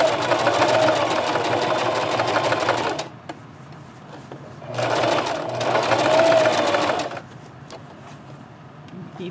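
A sewing machine stitching the bias edge of fabric for a scrub cap runs in two long, steady bursts, forward and then backward, close by with a quiet pause between them.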